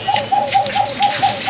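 Domestic pigeons, including two hens of an Indian Mumbai breed, coo close by in a loud, quick series of about seven evenly spaced rolling notes, with no talk over them.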